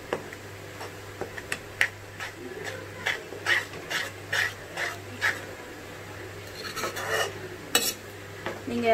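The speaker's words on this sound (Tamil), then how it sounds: "இப்போ இதை நல்லா ஸ்டிர் பண்ணிக்கிட்டே இருங்க" A spoon or spatula stirs egg burji (egg podimas) seasoned with turmeric and salt in a pan, giving a steady run of close scraping clinks and taps, with a few sharper knocks near the end.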